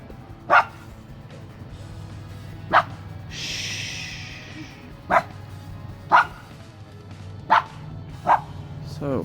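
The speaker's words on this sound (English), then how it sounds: "This is my buddy, neighbor's dog. He comes to yell at me all the time." A neighbor's dog barks in single, evenly spaced woofs, six sharp barks at close range in an outdoor garden, with a brief breathy rustle between them and no talking.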